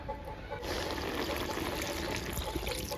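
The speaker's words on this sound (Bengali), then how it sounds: "ঝোলের জন্য অল্প পরিমাণে জল দিয়ে দিব" A small amount of water trickling steadily into a pot of dried fish curry, a soft, continuous pouring stream close by with no talk.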